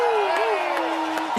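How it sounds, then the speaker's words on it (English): Spectators at a mixed team wheelchair curling match in Milano cheer and whoop loudly but briefly under an announcer's ongoing commentary. "You can hear the cheers."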